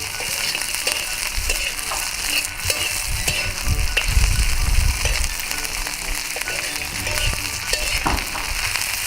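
Green chillies are roasting in a hot pan with a loud, continuous crackling sizzle, close by, broken by occasional stirring and pan knocks, with no voices.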